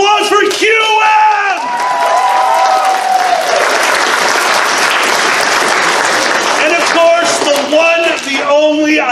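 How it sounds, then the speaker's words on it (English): A large convention crowd at Anthrocon 2022's Furry Jury panel bursts into loud, sustained applause with whoops, yells and shouted voices rising over the dense clapping throughout. "A huge round of applause for QM."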